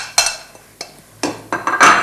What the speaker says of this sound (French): Alors, vous le mélangez comme ça à la cuillère.